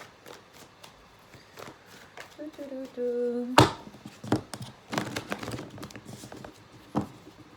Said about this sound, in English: I'm actually going to shuffle the reversals.